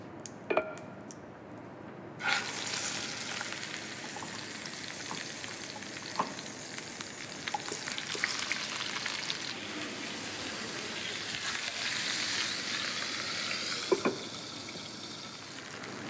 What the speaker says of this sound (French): Quand la viande est bien saisie